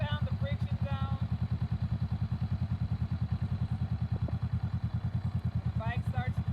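A motorcycle engine idles steadily with the clutch in while first gear is engaged, a close, even low-pitched chugging throughout with a few faint chirpy sounds near the start and end.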